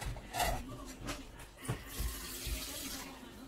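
Hands dipped and wetted in a bowl of water while shaping balls of whole wheat Moroccan bread dough. Soft splashes and dribbles come at an irregular pace, close and fairly quiet.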